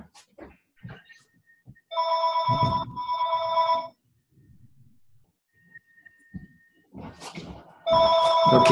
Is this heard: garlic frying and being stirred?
no